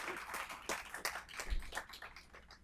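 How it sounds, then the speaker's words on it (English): Audience clapping during a nurse awards ceremony, a soft, fairly quiet patter of many hands sustained for a few seconds in a hall, with no talk. "We can clap again."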